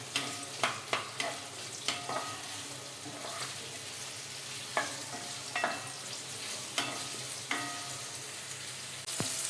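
Ingredients sautéing in a pan for paneer mutter masala, a continuous sizzle broken by repeated sharp spatula scrapes and taps at an irregular pace, close up, with no voices.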